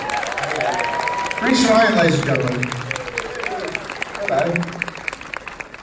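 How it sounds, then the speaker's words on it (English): Applause from a fan convention crowd at Draigcon 2019 greets Chris Rankin, loud at first and then dropping under a man's amplified introduction and greeting, with a few claps still scattered through. "big round of applause for the amazing Miss Chris Rankin"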